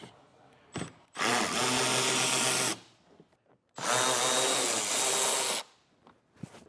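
A power drill backing out T15 Torx screws from the wheel well liner of a 2021 Buick Enclave, two loud close whirring runs of about two seconds each, separated by short pauses with small clicks.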